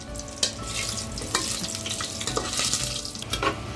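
Garam masala and curry leaves roasting in hot oil for a village-style chicken curry: a close, continuous sizzle broken by the sharp scrapes and clatter of stirring.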